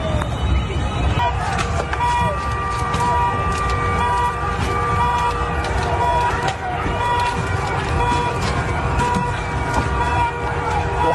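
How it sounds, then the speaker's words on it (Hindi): Sirens wail along streets during unrest in Iran, layered over a busy roar of crowd and traffic noise, with talking mixed in throughout. "हर तरफ सायरन की आवाज"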